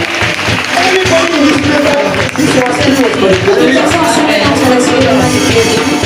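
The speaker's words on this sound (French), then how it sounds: "Applaudissez pour Jésus-Christ." A church congregation claps and cheers steadily for several seconds, loud and continuous, with voices and music mixed into the sustained applause.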